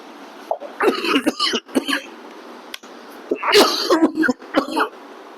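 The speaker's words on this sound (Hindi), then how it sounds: "खांसी आ रही, तबीयत सही नहीं है हमारी" A person with a cough coughs and clears their throat in several rough bursts, close and moderately loud, with brief pauses between.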